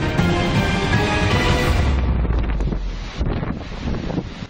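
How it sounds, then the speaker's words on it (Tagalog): Large typhoon waves surge against houses in a coastal village in Gigmoto, Catanduanes, with a heavy roaring wash, strong wind buffeting the microphone, and the surf receding into a rough churning. "Halos lamunin ng malaking alon ang mga bahay sa Barangay Sikmil sa Gigmoto, Catanduanes"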